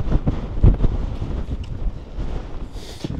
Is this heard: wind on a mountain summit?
yes